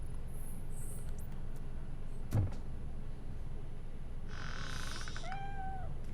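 A cat in the video game Robocop Rogue City gives a brief faint meow amid a quiet ambient background, with a short thump and other soft game sounds around it.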